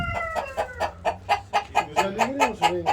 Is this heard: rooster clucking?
yes